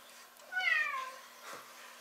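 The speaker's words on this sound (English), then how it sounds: "She's actually a Bengal cat." A Bengal cat meows once, a rising and falling harmonic call of moderate loudness close by in a quiet kitchen, followed by a faint short sound.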